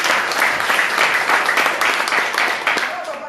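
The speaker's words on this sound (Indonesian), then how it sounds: "Berikan tepuk tangan ya." An audience claps together at a business seminar in Indonesia, a dense and sustained burst of applause that fades slightly at the end, with voices mixed in.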